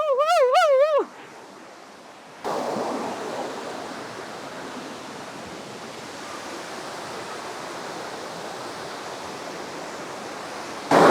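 The Kothapalli waterfalls give a steady, broadband roar of rushing water that fills most of the clip. A brief warbling tone and a short quiet gap come before it.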